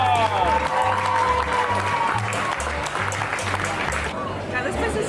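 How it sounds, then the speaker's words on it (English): Diners at the Big Texan steakhouse clap and cheer for two winners of the 72-ounce steak challenge, a dense, steady burst of applause mixed with crowd chatter over a thumping background music beat. "Let's give them a round of applause."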